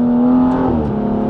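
A tuned BMW 235i accelerates onto a motorway, its engine droning loud and steady in a brief burst heard from inside the car.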